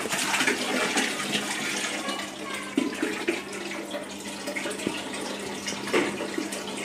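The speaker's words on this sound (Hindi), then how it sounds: "आ गया भाई, आ गया टैंक से पानी सीधा इसमें।" Water gushes steadily from a tank straight into an aquarium, a continuous close splashing and pouring that fluctuates slightly in strength throughout, with no talk over it.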